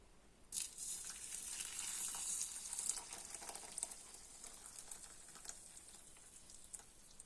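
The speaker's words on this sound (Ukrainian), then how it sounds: "І залью окропом." Hot water pours and splashes into a container with a hissing, crackling fizz that gradually settles into quieter bubbling.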